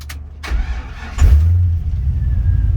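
A 1953 Chevy 3100 truck with fuel injection cranks with a couple of short turns, then catches and settles into a low, steady idle, close and loud.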